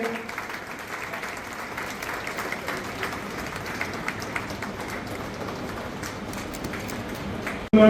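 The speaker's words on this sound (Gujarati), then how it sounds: "આપણે તાળીઓને ગણગણાટથી વધાવીએ છું આ ક્ષણે" An audience at a district BJP lawyers' conference in Nadiad claps in a dense, steady roar of applause lasting several seconds before it cuts off abruptly at the end.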